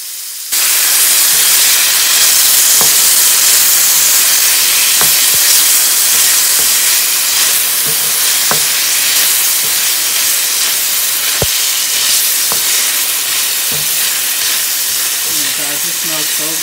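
Shrimp dropped into hot olive oil in a skillet: a sudden loud burst into a dense, steady hissing sizzle that holds for the whole stretch, with a few faint clicks, close and loud, no talk.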